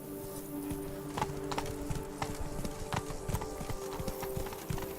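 Horse hooves clip-clop steadily on a hard road while a horse is ridden in The Witcher 3: Blood and Wine, with a continuous musical drone underneath the even rhythmic steps.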